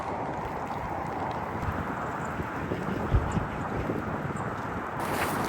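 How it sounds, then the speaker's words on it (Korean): Strong, cold spring wind gusting across a campsite, a continuous broadband roar buffeting close around the microphone with small swells in strength, no voices. "지금 강풍이 막 불고 그렇게 심한 강풍은 아닌데 엄청 춥습니다"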